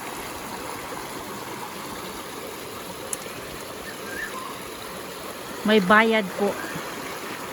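A small river at Kamikoshi flows in a steady, soft broadband wash that continues through the whole stretch, with a brief voice speaking near the end over the moving water.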